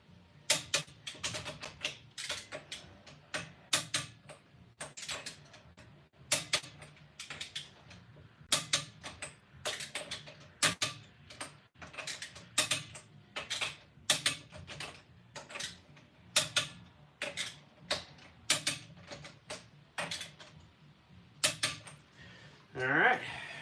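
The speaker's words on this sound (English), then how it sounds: "Cromwell torque wrench, super nice torque wrench." A Cromwell torque wrench clicks and ratchets in quick, uneven bursts while brake bolts on a car are tightened, the sharp mechanical ticks close and loud over faint background noise.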